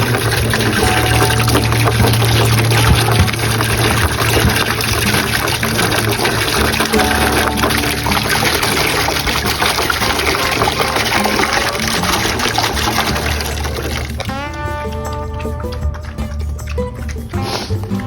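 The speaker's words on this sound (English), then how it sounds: "and I gotta pour some water." Water being poured for pigs inside a barn, a steady trickling and splashing under a dense, continuous wash of background noise, with a brief clatter near the end.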